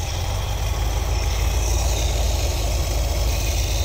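A 1973 Ford Econoline with an Edelbrock carburetor idles in park, a steady low engine rumble with even vibration, close and loud, with no talking over it.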